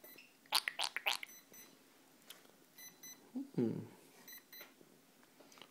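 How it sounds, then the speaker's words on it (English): Electronic beeps from a radio-controlled car's ESC, a few high-pitched chirps close by near the start, followed later by a brief lower tone, with quiet background between. "it's beeping and it's flashing green. That's the ESC flashing green."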